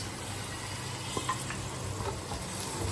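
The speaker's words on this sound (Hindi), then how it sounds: "अच्छे से मसाले को भून लेंगे।" Spices sizzle in hot oil with crushed green chillies and tomatoes, a steady soft frying hiss with a few light stirring knocks, close and even, no voices.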